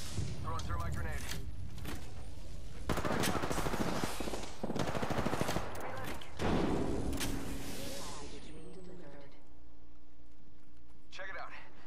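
Automatic and single gunfire in the battle royale game Apex Legends, loud dense bursts and rapid volleys filling most of the stretch, with occasional clacks and a spoken voice over the shooting before it trails off into quieter game ambience.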